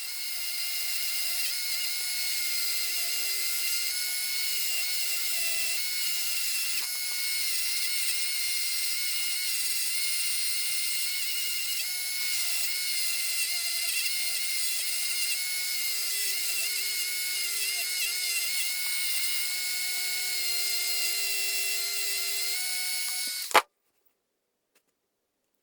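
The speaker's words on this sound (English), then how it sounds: "Just polishing it now" A rotary tool polishing a Matchbox Ferrari Berlinetta model car gives a steady high-pitched whine for over twenty seconds, with a faint, uneven scrape of the buffing wheel, before stopping abruptly into silence.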